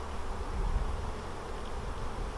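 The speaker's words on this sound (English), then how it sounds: "we'll puff some smoke on top of the frames to get the bees out of the way" Honeybees buzzing around open beehive frames during requeening, a soft continuous drone close by, steady and unbroken for the whole stretch.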